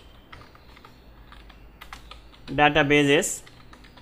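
Keystrokes on a computer keyboard while entering a MariaDB database command, a sparse run of light clicks followed by an Enter key press, with a voice speaking over part of it.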